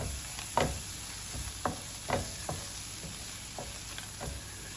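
A spoon scrapes and taps against a pan while egg puff masala with coriander leaves is stirred, giving several distinct knocks over a low, steady sizzle, close and with no talking.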